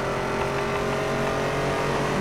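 A Chevrolet car's engine roars steadily at high revs in the racing game NFS: Most Wanted (2012), a loud, continuous drone with no talking.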